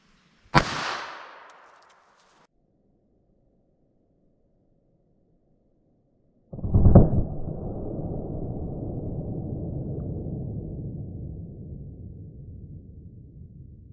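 A .22 LR pocket pistol fires into a ballistic gel block: one sharp, loud crack with a short fading tail, then silence, followed by a long broadband rushing burst of noise that slowly tapers off.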